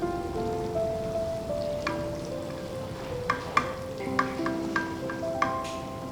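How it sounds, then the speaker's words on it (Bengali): Stuffed green jackfruit with paneer frying in a pan, a soft steady sizzle with a few sharp pops and crackles toward the end, close and moderately loud, with no talking. "বুঝতেই পারছো, ভাজাভাজি চলছে, বেশিক্ষণ সময় লাগবে না"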